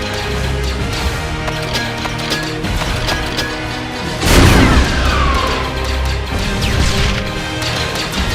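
A heavy mortar explosion booms midway through a battle sound effect, rolling out over continuous mechanical clatter and rumbling background noise, loud and close.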